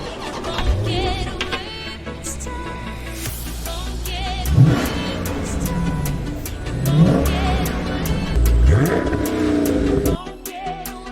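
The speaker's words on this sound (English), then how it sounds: "we can certainly let him listen to the Scat Pack" A Dodge Scat Pack V8 revs loudly and close up, with repeated throttle blips and rising, falling engine swells, with no talking over it.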